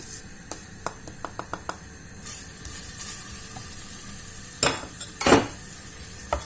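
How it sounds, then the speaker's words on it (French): Garlic and spices fry in sunflower oil, a sizzling hiss punctuated by sharp clicks and taps of a utensil against the pan, with a couple of louder bursts of spattering near the end; nobody speaks. "Je vais faire revenir tout ça dans l'huile."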